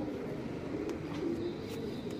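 Pigeons at a pigeon farm coo in a soft, continuous low murmur, with several overlapping birds fairly close and steady throughout.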